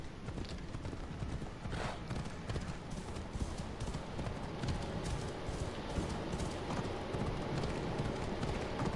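Horse hooves pound steadily in Assassin's Creed Odyssey, a continuous clip-clop gallop that stays loud and close from start to finish, with no talking over it.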